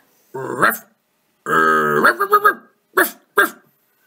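A human voice imitates a dog while telling a children's story, with a drawn-out growling bark followed by a run of short, sharp barks, close and clear.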